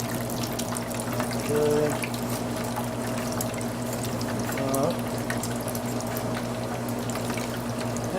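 Water pours and gurgles steadily from a cooking pot as it drains into a sink, a continuous close rush, with a short spoken word over it.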